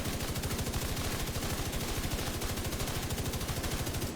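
Rapid automatic gunfire from the video game The Division 2 fires in a fast, even burst that runs without a break, loud and dense, with no voices over it.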